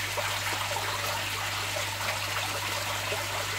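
A small waterfall spills into a koi carp pond, giving a steady, close trickling and splashing of water that runs evenly throughout with a low constant hum beneath it.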